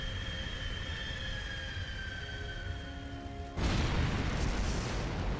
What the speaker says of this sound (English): How the fuck they didn't get hit by the explosions?